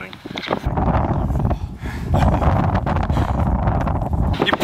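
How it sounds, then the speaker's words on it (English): Strong wind buffets the microphone at the summit of Pen-Y-Fan, a steady loud roar of gusts with a brief lull near the start and voices talking over it. "You probably can't hear me with the wind."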